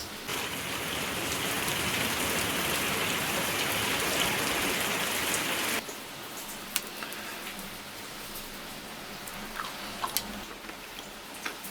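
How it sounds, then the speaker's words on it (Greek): Heavy rain pours in a dense, steady hiss for several seconds, then drops to a lighter patter of scattered drops and ticks, with no one speaking. "Πολύ βροχή."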